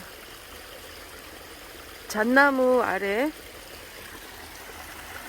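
A mountain stream flows beside a shaded creek bank, a steady soft rush that runs through the whole stretch, with a voice speaking briefly over it near the middle.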